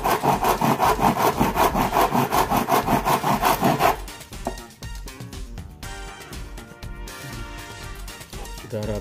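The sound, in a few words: hand saw cutting a wooden canvas frame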